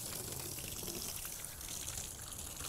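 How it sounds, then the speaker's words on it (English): Tap water runs steadily over freshly cut halibut fillets as they are rinsed, a continuous close wash at gentle pressure with no talking. "Be rinsing my fillets off."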